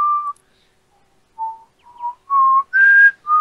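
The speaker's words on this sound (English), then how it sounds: "I was just whistling the Final Fantasy 13 theme" A person whistles a melodic tune from the Final Fantasy 13 theme in short, clear phrases separated by pauses, the notes growing louder and longer toward the end, with no talk over it.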